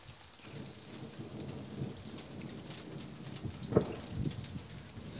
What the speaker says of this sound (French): Ça fait le coup de tonnerre quand même.